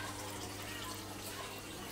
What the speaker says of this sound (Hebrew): אתם שומעים את הזרימה של המים עכשיו